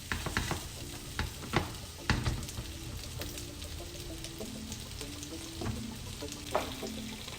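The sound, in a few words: shrimp frying in a pan after being flipped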